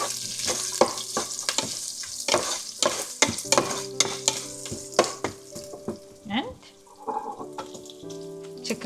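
A spatula repeatedly scrapes and clacks in a pan as chopped garlic and ginger fry, producing a rhythmic series of sharp stirring strokes over a soft sizzle, close and fairly loud.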